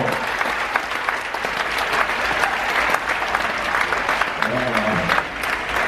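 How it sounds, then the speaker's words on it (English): A shipboard audience at a hypnotist show on the Celebrity Summit cruise ship claps in a loud, sustained round of applause that lasts the whole stretch, with a voice briefly heard near the end. "have a round of applause for the stars of your show"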